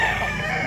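A rooster crows in a short, loud, steady burst, at a Cebu gamefowl market where medium-sized cocks are sold. Nobody talks over it.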